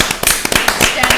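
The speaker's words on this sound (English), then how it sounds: "Should we give her a round of applause?" An audience applauds designer Mary Katrantzou at a panel discussion, a close, dense burst of clapping with sharp irregular claps throughout.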